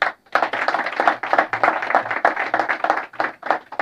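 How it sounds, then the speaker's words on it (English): An audience at a gathering of Kenyans in London claps for a young girl. The clapping comes in quick, uneven bursts with brief dips, loud and close, with no talk over it. "Please clap for this girl."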